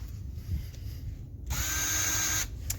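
A high-pitched electric drill whirs steadily for about a second, close and fairly loud, drilling an LS1 engine's throttle body part, then stops, over a low background rumble.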